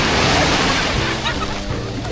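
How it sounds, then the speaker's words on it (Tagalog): Sea waves washing and sloshing at a beach, a dense continuous wash of surf close by that eases slightly toward the end, with faint voices mixed in. "Alon."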